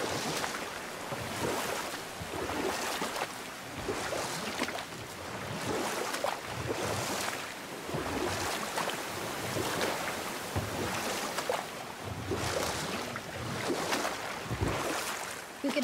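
A boat moving through water in the video game God of War, with steady splashing and rushing wind noise rising and falling in repeated surges, no voices.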